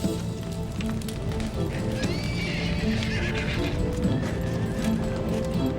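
Horses trapped in burning stables neigh and whinny loudly while hooves clatter and stamp, with crashing and rushing noise around them and no talk.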